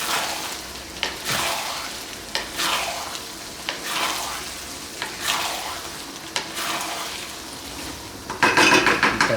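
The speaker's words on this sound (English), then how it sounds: "Cook this up for a few more minutes. Stir it up." Tofu frying in a pan as a thickening sauce is stirred, steady soft sizzle with repeated scraping stir strokes about every second, close and moderately loud, a brief louder clatter at the end.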